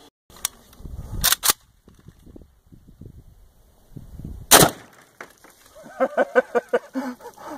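A 7.62x39 rifle fired into a slab of HDPE made from milk jugs outdoors, giving a few sharp, loud cracks with impacts and rustling between, followed by a rapid string of clicky ticks.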